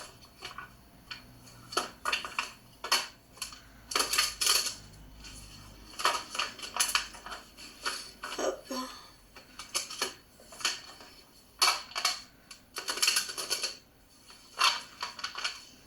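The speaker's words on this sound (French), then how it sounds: "Donc je vais le mélanger 3 fois en se concentrant toujours sur la controverse de ce Gardasil." An oracle card deck is shuffled by hand in a quiet room, giving bursts of crisp riffling and slapping card noise that come in irregular clusters with short pauses between them.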